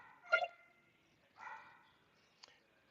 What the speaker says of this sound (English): my dog is freaking out, but I can't really do much about that right now